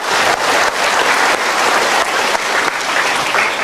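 An audience breaks into loud, sustained applause, dense clapping throughout with a few surges and no talking.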